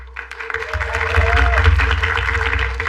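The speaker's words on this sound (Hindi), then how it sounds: "एक बार तालियां फॉर डॉक्टर पर सुनील गांधी" Audience applause for Dr. Sunil Gandhi after a rap performance, a dense, steady clapping wash that swells in after a brief quiet start, with a low rumbling hum and voices mixed underneath.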